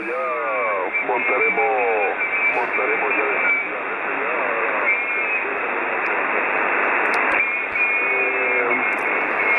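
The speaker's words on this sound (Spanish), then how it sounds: "La oímos con bastante lo que se llama splatter, ¿vale?" Amateur radio station on the 40 m HF band near 7155 kHz, received with heavy splatter from operators on nearby frequencies: a continuous hissy, band-limited voice transmission with crackling interference throughout.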